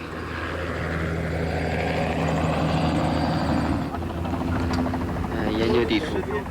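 A steady Chinese army helicopter drone fills the air with a continuous rotor and engine roar, loud and close, with voices talking over it, flying along the Tarim River.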